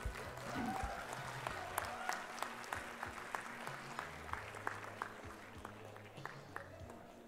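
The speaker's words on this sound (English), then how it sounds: "Shilpa, and give yourselves a big applause, PGPM." An audience applauds graduates at the Great Lakes Institute of Management's 19th convocation, with steady, fairly soft clapping and scattered sharper individual claps throughout. A few faint voices are mixed in.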